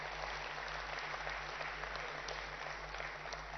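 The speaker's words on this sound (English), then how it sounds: "I think she deserves a bigger round of applause," Audience applause fills a conference hall at an Indian state industry event in Telangana, a dense, steady clapping wash that holds at an even level throughout with no voices rising above it.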